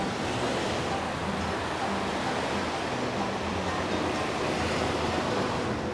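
Ocean waves on a California beach, a continuous rushing wash of surf with wind noise, steady and fairly loud throughout, no voices.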